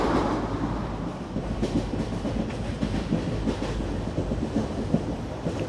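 The Koyna Express rolls along the rails near Dadar in Mumbai with a steady low rumble and rhythmic clickety-clack of wheels over joints, heard from on board and continuous throughout.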